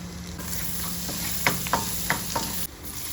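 Garlic sizzles in butter and a little oil in a pan, a steady fry under a few sharp stirring clinks from a utensil, with no one talking.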